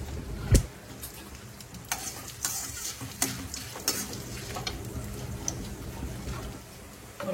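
Chana dal and urad dal frying with popped mustard seeds and asafoetida in a hot pan, a continuous close sizzle broken by sharp pops and spoon scrapes against the pan.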